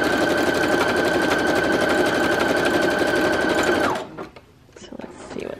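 Brother Project Runway CE1100PRW sewing machine stitches a sample stitch in a loud, fast, steady mechanical whir for about four seconds, then stops. Fabric handling noises follow.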